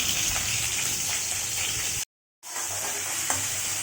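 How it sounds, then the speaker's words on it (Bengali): Potatoes being stirred and fried with spices in a pan, a steady close sizzle with scraping, broken by a short silent gap. "এখন আলুটা কষাচ্ছি মশলা দিয়ে"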